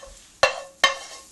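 Onions tipped into a pan of frying mince make two sharp, close sizzling bursts about half a second apart, each fading quickly into a quiet crackle.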